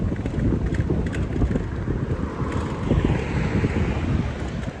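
Strong headwind buffets the microphone while riding a bicycle along a village road in the Netherlands, a continuous low roaring rumble that stays loud and steady throughout with no talk.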